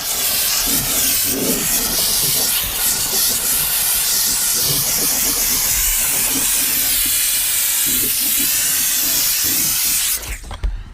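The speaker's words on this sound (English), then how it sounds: "Hopefully the steam cleaner will shift that as well." Steam cleaner hissing steadily while cleaning the soft furnishings inside a filthy Volkswagen Fox, a loud continuous close spray of steam with faint scrubbing knocks underneath, cutting off near the end.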